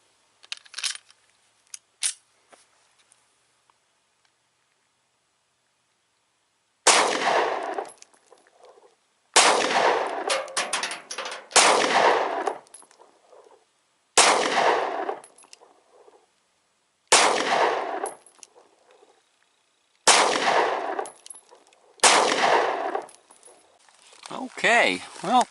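A Ruger handgun fires about seven sharp, loud shots at a target, spaced a couple of seconds apart, each with a ringing tail, after a brief stretch of metallic clicks and handling noise from a magazine change.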